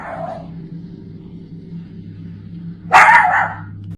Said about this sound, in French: Le chien aboie en direction du mémorial